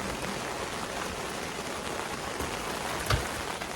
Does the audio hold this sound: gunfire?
no